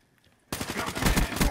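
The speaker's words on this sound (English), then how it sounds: "that sentry gun's got us" A sentry gun in the video game Black Ops 3 opening fire suddenly after near silence, a rapid, loud, continuous stream of automatic shots.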